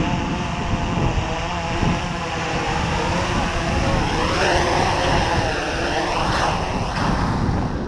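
An Eagle Tree Vector FPV model plane flying in to land gives a continuous buzzing motor whine over wind rush, its pitch sweeping up and down as the throttle changes.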